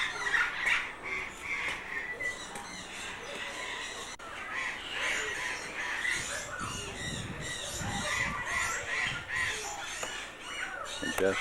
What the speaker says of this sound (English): I think the fish eagle is the most majestic of them all